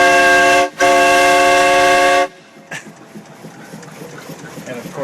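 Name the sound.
steam whistle on a steam boat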